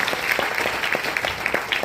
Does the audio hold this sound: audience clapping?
yes